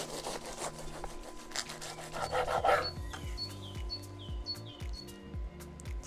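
A knife saws and scrapes through a grilled asparagus foil packet in close, rasping strokes, followed by repeated lighter scraping cuts in a quiet setting, with faint chirping in the background.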